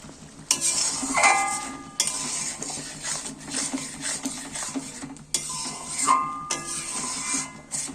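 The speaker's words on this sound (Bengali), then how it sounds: "এবার গাওয়া ঘিটা দিয়েও আমি একটু নেড়ে চেড়ে নিচ্ছি" Chhana dalna stirred in a pan after a spoonful of gaoa ghee goes in: a spoon scrapes and clinks against metal in bursts, over a steady low sizzle from the hot curry.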